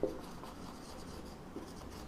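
Steady scratchy strokes of writing on a classroom board, faint and close, with a few slightly louder taps, no voices.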